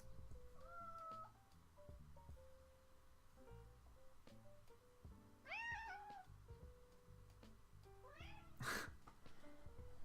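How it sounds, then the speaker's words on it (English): A pet cat meows several times at a quiet, moderate distance, short rising calls spread across the span over soft background game sounds. "My cat says hello a lot."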